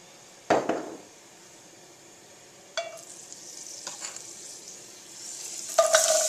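Food hits hot olive oil in a pan with a sharp burst of sizzling, then a quieter steady frying hiss follows, with a few stirring clatters and scrapes along the way. No one speaks.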